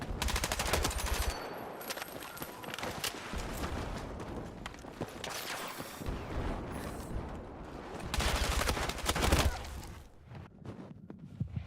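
Rapid automatic bursts from a QBZ rifle in the video game Battlefield 6, sharp repeated gunfire in several sustained strings with brief gaps, loud and close.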